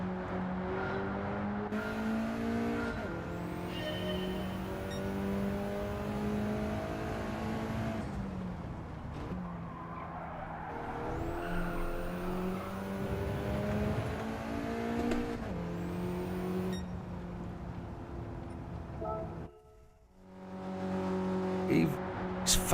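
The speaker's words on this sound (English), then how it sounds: "See, it throttle cuts just there as you get to the line in third." Race car engine in a racing video game, revving hard in third gear and repeatedly bouncing off the throttle cut, with rising harmonic pitch sweeps and a brief dip near the end, under occasional talk.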